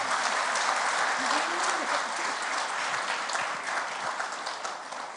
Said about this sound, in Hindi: फिटनेस पर ताली बजा दीजिए एक बार जरूर।